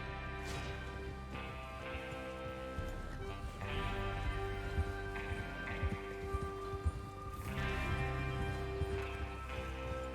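Horse hooves clip-clop in a steady galloping rhythm over a constant musical drone in Red Dead Redemption 2, with occasional louder thuds and no talking.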